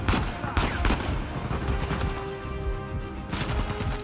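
Heavy gunfire from the Uncharted 4 video game, a continuous rattle of automatic shots with louder volleys near the start and end, close and intense, with a faint tone running beneath.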